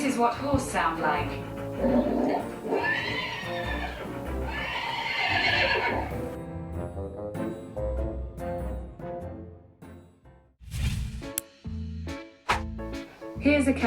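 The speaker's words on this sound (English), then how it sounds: "This is what horse sound like." Recorded horse neighing and whinnying, played back through a speaker indoors, with a stretch of voices talking over part of it and a few sharp sounds near the end.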